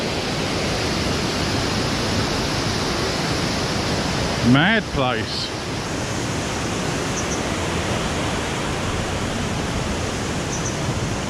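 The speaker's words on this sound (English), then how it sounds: "all that water pounding it." Waterfall at Plitvice Lakes pouring onto a staircase, a loud, steady broadband roar of rushing water throughout, with a brief spoken remark partway through.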